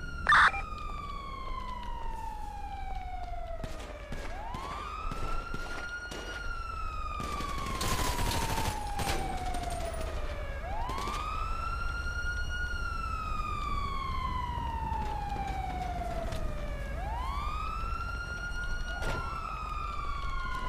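Police car sirens wail in GTA 5 roleplay, rising and falling in long repeated sweeps that stay loud and close, with a short burst of harsh noise partway through, like gunfire or a flashbang.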